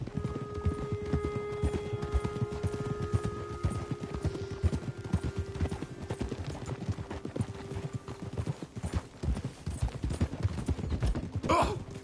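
Horse hooves clip-clop in a fast, steady rhythm in the video game Red Dead Redemption 2, close and continuous as the horse travels at night, with a brief snort or whinny near the end.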